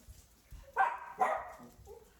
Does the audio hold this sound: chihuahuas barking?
yes